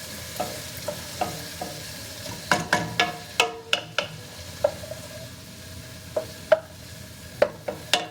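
Food frying in a pan on a home kitchen stove, stirred with a utensil, giving a continuous sizzle under repeated sharp scraping and clacking strokes in an uneven rhythm, close and fairly loud, no voices.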